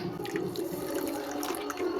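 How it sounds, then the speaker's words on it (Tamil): Water poured steadily into a bowl of sabja (basil) seeds, a continuous close trickling and splashing that runs unbroken for about two seconds with no voices. "இப்போ கொஞ்சமாக வந்து தண்ணி வந்து சேர்த்துக்கலாம்"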